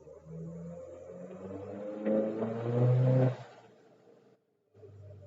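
Subaru EJ207 engine with Kelford cams and a 20G turbo on a dyno during a short wastegate duty cycle pull, a steady loud mechanical drone that swells to a peak around three seconds, then drops away and briefly cuts out.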